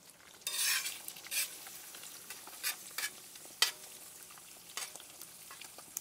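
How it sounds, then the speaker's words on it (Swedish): Eggs sizzle in a hot pan while a utensil stirs and scrapes in short bursts, close and moderately loud. "Nu steker vi"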